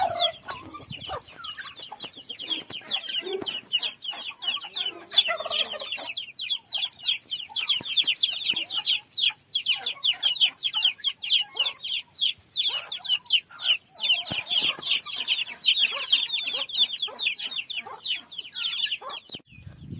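A flock of chickens and young chicks under an infrared heat lamp cluck and cheep almost nonstop. The dense, close chatter of high peeps builds and stays busy throughout, and nobody speaks.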